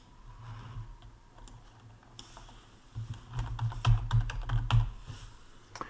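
Keystrokes on a computer keyboard, light and scattered at first, then a denser, louder burst of close typing with a few sharp clicks, no voices.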